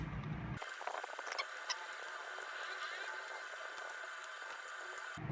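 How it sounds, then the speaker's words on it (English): Small screws are taken out of the back cover of a Dell laptop with a screwdriver, giving faint scratchy clicks and ticks over a steady hiss, with no talk. "I'll continue to remove the screws."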